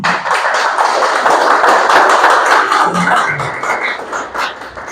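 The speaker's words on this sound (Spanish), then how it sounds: "Denle un aplauso al Señor" A church congregation claps together, a dense, steady patter of many hands that fades a little toward the end, with faint voices mixed in.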